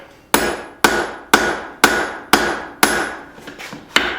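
Hammer blows on hot steel while tapering the reins of a blacksmith's forged tong, eight sharp ringing strikes at a steady rhythm, close and loud with no talk.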